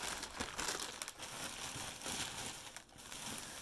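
Wrapping paper crinkles and rustles continuously as it is unwrapped close by, quiet and uneven, with no voices.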